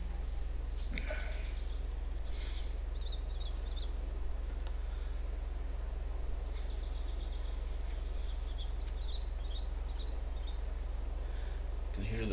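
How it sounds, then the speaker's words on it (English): Birds chirp and tweet in short bursts over a steady low engine rumble from a tank idling in bushes, in the World of Tanks video game, on the Murovanka map. "Can hear the birds tweet"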